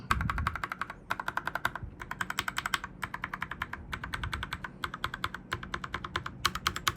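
Typing on a Royal Kludge RK61 mechanical keyboard fitted with lubed, filmed Milky Yellow switches, close and clear, in quick bursts of crisp clacks separated by short pauses.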